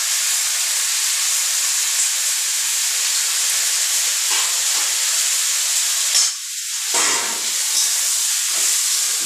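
Eggplant, stalks and potato frying with turmeric in a hot pan give a loud, steady hiss close by, briefly broken by a stir before the sizzle resumes.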